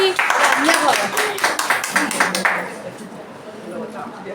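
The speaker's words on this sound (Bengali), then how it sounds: "জোরে হাততালি" Loud applause from a gathered crowd at a Women's Day felicitation ceremony, dense clapping for about two and a half seconds, then thinning out as the clapping fades beneath the room noise.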